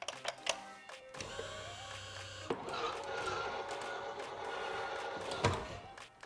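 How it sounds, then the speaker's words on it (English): Minn Kota Ulterra trolling motor stowing itself after a press of the center button, a steady mechanical whir with a motor tone lasting several seconds, ending in a faint thunk, close and fairly quiet. "To stow the motor, simply press the center button once."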